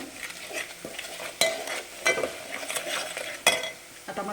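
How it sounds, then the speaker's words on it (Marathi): Ground masala paste roasting in oil for a spiced amti, a low frying hiss broken by several sharp scrapes and clacks of a spoon against the pan, close and alone. "चटणी थोडीशी छान भाजून घ्यायची तेलात अगदी गडबड नाही करायची"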